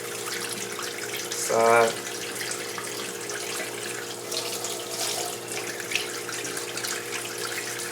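Hot tap water runs over the bristles of a crown brush while it is rinsed at a sink, a steady hiss with a brief louder gush near the start and a voice speaking briefly.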